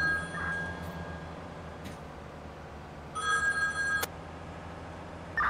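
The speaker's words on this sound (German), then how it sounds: "Steffen ist nicht erreichbar, kannst du abnehmen" An in-game telephone rings in Farming Simulator 19, two bright electronic ring bursts over a steady engine-like hum, with a short chirp at the start and end.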